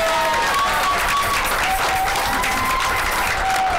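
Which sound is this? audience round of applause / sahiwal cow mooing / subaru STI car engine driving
audience round of applause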